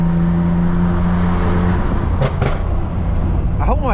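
A BMW M2 droning loudly at close range, then a pair of sharp exhaust pops on a downshift, followed by a quick rising rev.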